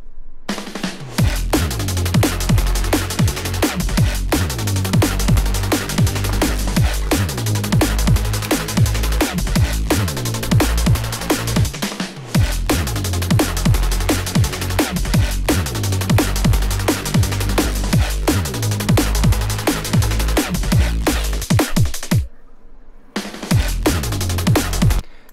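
An unfinished electronic music track reaching the start of a drop: a pounding, steady beat with dense synth layers, loud throughout, with two short dropouts near the end and no voice.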